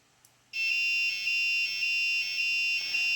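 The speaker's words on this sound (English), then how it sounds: "And there's the alarm." A shrill electronic active buzzer alarm driven by an ESP32 starts abruptly and drones on steadily, pulsing slightly, loud and close with no other sounds.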